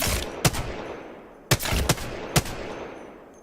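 Gunfire from an Apex Legends aim practice session: a sharp shot near the start, then a cluster of three quick shots around the middle, each loud and close against a steady background hiss, with no talking.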